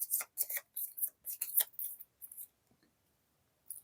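Cards from a Skyrim board game being shuffled into a deck by hand, a series of quick, crisp riffling bursts close by, then a pause and one last soft flick.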